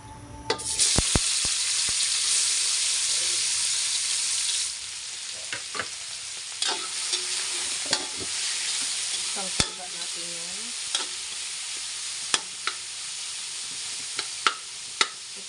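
Cooking oil heats and food fries in a pan for sinigang sa miso with tuna head, a loud hissing sizzle that drops off after a few seconds into softer crackles, scrapes and clinks.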